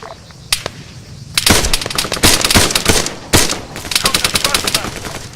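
Machine gun fire in the video game Arma 3, with loud close bursts and rapid shots cracking in dense irregular volleys, alongside scattered single gunshots.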